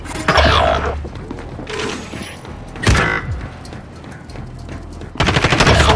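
Bursts of machine-gun fire in a zombie shooter game, loud and close, coming in separate volleys with quieter gaps, the last burst running to the end.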